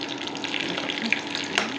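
Onion sizzles in hot oil with a little chili in a pan, a steady close crackle with small spits and a few light stirring taps, no voices.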